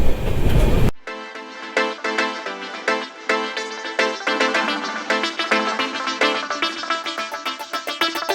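The Tirumala Express rolls through Narsipatnam railway station, heard from onboard as a rhythmic clickety-clack of wheels over rail joints after a brief loud burst, the beats steady and fairly close.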